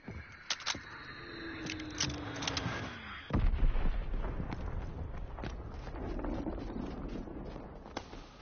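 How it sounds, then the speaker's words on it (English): A Fritz X guided bomb falls with a descending whistle in a WWII video game, then hits with a deep, loud explosion followed by rumbling debris and scattered crackles that fade out. "Dropping Fritz X bomb."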